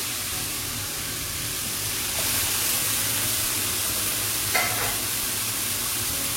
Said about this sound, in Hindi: चिकन को मैं अच्छी तरह से फ्राई करूंगी अदरक लहसुन के पेस्ट में